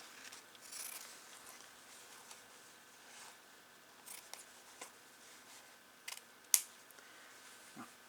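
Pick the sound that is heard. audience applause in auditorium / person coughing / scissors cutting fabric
scissors cutting fabric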